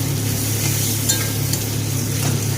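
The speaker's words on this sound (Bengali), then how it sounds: "পেঁয়াজটাকে এবার একটু ভেজে নেব। এই সময় এর মধ্যে দিয়ে দেব বেটে রাখা রসুন।" Chopped onion with ground garlic paste fries in a pan, giving a steady, close hiss of sizzling oil with faint stirring scrapes, no voices.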